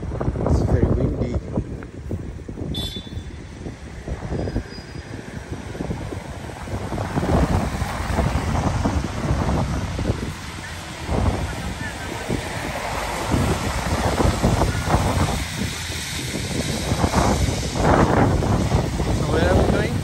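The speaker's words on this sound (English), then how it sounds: "It's very windy." Strong gusty wind buffets the microphone on a London street, a continuous loud rumbling roar that rises and falls, with people talking over it.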